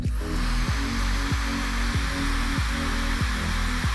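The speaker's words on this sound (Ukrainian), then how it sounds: "Фен значно тихіший за більшість моделей." A steady, loud whooshing airflow with a low rhythmic pulsing runs throughout from a Laifen Swift Special hair dryer blowing continuously, without high-frequency whine.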